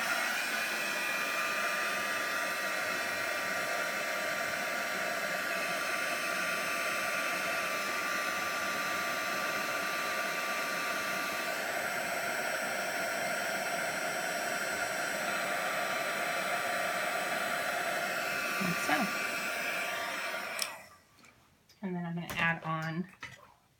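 Hair dryer blowing steadily on painted card for bokeh-style layering, a close, continuous whooshing hum that runs for most of the clip and then cuts off, with a voice speaking briefly after it stops.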